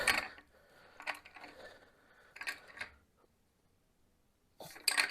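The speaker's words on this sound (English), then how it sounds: "I got to put a ratchet on the front" A ratchet turning a VW Beetle engine, clicking in three close bursts of rapid metallic ratcheting separated by pauses, the last after a quiet gap.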